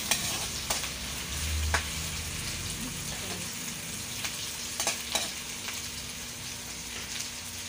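Pork, garlic and onion fry in a pan with a steady close sizzle, broken by occasional clicks and scrapes as the food is stirred.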